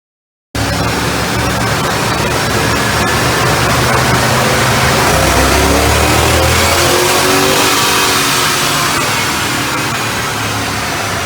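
A stock 2008 Dodge Ram 1500 Hemi V8 pickup engine roars steadily at high revs on a dyno, loud and continuous, with the pitch climbing partway through a long pull.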